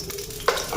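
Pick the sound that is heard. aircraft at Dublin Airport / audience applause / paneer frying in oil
paneer frying in oil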